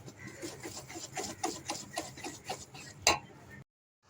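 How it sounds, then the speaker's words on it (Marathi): Whisking ragi cake batter mixed with cocoa powder in a bowl, a steady run of soft rhythmic clinks and scrapes that ends in one sharper knock before silence. "2 चमचे कोको पावडर टाकणार आहोत आणि हे सर्व फेटून घेणार आहोत"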